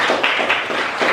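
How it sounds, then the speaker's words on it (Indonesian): Schoolchildren clapping in a classroom, a short burst of quick, even claps close by with several hands together. "Boleh lihat tepuk tangan untuk kita semua"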